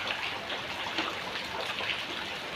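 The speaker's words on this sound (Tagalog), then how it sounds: "Ganahan man og ulan ang atong adlaw karon." Rain falls steadily in a continuous, fairly loud hiss of drops, close and even, with no voices for its brief run.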